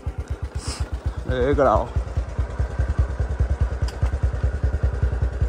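A motorcycle engine on a short enduro ride thumps out a steady, rapid beat close by, holding an even idle-like rhythm throughout while someone speaks briefly over it.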